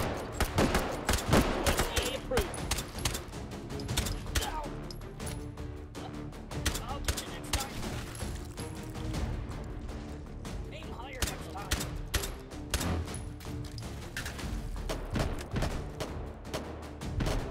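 Rapid, overlapping gunfire from the VR shooter Hot Dogs, Horseshoes & Hand Grenades, played on HTC Vive in the Wurst City custom map, with dense bursts and booms running throughout while someone talks now and then.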